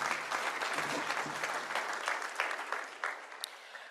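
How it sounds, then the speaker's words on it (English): Audience applause at the opening session of an annual accountants' seminar, a dense crowd of clapping hands starting full and steady, then thinning into scattered louder claps as it tapers off near the end. "Another round of applause for Dr."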